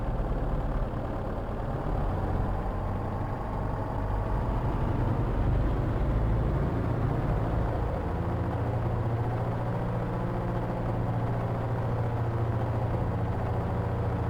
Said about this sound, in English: For the run up, we'll come up to 2300 RPM.